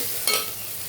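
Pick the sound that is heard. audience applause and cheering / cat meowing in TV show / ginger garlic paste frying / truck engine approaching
ginger garlic paste frying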